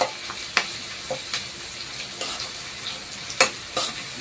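Onions frying in a pan with a spoonful of salt, stirred with a spoon: a steady low sizzle throughout, broken by sharp scraping clinks of the spoon against the pan at irregular intervals, with no talking.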